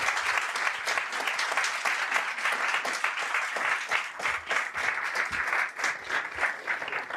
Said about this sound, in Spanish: un fuerte aplauso para Axel Kaiser.